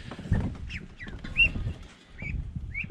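Young mulard ducklings, about fifteen days old, give short rising peeps scattered over a low background rumble and shuffling, moderately close.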